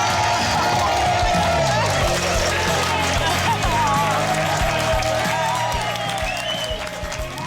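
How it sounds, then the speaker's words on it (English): Wedding guests applaud and cheer for the newlyweds, a loud, continuous crowd roar with clapping and excited voices, joined by a rhythmic clopping that rings throughout as the couple passes. "Can we give a huge round of applause and waving flags for the new Mr."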